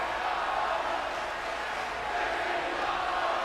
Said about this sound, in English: The crowd chanting, "This is awesome," understanding the worth of Ricochet.